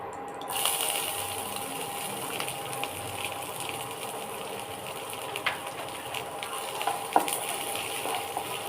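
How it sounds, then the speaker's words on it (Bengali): Onion frying lightly in a pan for chicken bukhara, a continuous soft sizzle with occasional faint clinks and stirring sounds, steady and close, with no talking. "দিয়ে হালকা ফ্রাই করে আমি পেঁয়াজটা দিয়ে দেবো"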